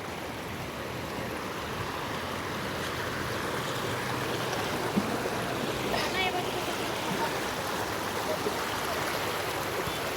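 River water flows steadily at Khadavli, a continuous broad rushing wash with a faint brief chirp partway through; no voices are heard.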